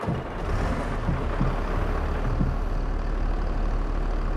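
A farm vehicle engine in Farming Simulator 22 drones as a loud, steady, low rumble like a truck idling, running continuously throughout without talk.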